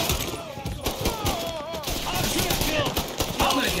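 Rapid gunfire bursts from the Mafia 3 video game, a dense crackle of overlapping shots filling the whole stretch, with a voice talking over parts of it.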